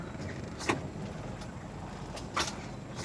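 Vehicle rolling along a narrow rough road in Oriental Mindoro, a steady low engine and road rumble with a couple of short rattling knocks from bumps, moderately quiet.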